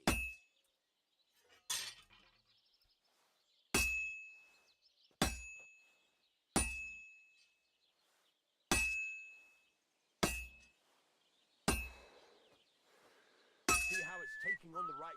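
Hammer striking hot metal at a forge in the video game Kingdom Come Deliverance: about nine sharp, ringing clangs spaced roughly a second or two apart, each decaying fast, with a short whistling sound near the end.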